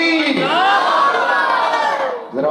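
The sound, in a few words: crowd chanting religious slogan Nara-e-Takbeer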